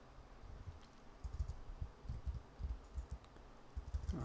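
Computer keyboard keys clacking in quick irregular bursts while working in Blender, close and fairly quiet, with no voices.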